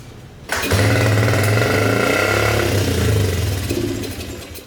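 The small engine of an old barn-find three-wheeler, unused for 25 years, sputters to life and runs loudly and steadily with a throbbing, rough idle, then fades slightly near the end.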